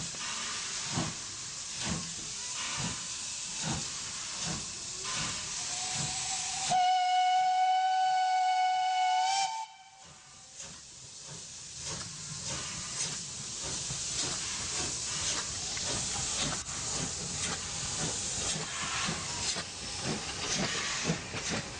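A train in the video game Zero Sievert hisses steam and rumbles along, with a sustained multi-tone steam whistle blowing midway before the chugging resumes.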